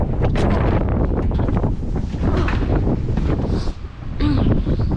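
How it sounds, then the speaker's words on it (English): Loud, steady wind buffets the microphone with a rough, blustery roar at the Glamis dunes in February, broken by a brief lull near the end before gusting up again. "It's about to get very windy."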